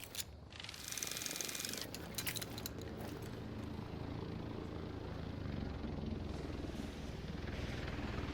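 A helicopter in The Division 2 drops a supply crate, its steady rotor drone rumbling continuously and fairly loud after a brief sharp clatter at the start, with a few bright clanks early on.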